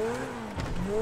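A motorbike engine in GTA V drones steadily and faintly, its pitch dipping and then climbing again as it revs, continuous with no voices over it.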